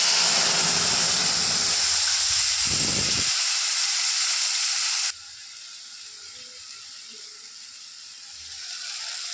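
Spice paste with whole mustard seeds hits hot oil in a pan for a rohu fish curry, giving a loud, steady broadband sizzle that drops sharply to a quieter hiss about halfway through, with no talking.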